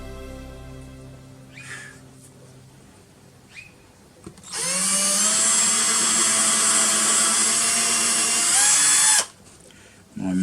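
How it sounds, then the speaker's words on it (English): A small-bit power drill bores a tiny hole in 1 mm by 1 mm stripwood, a loud, high, steady whine lasting about five seconds that stops abruptly, preceded by quiet handling noises. "Making sure I don't drill a hole all the way through."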